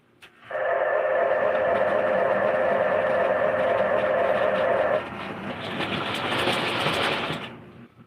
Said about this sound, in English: I'll get the train running here.